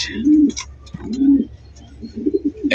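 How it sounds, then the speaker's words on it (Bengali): Danish pigeons coo nearby in low, rolling phrases, several calls in a row with brief pauses, with faint rustling between them. "ড্যানিশ কবুতর, এই ময়নাচাক কবুতর"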